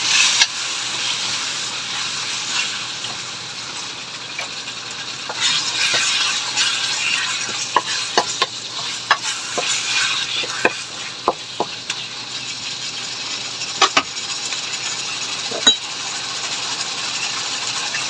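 Lechon paksiw stirred in a cooking pot, with steady sizzling and a hiss of steam throughout, punctuated by scattered metallic clinks and scrapes of the utensil against the pot.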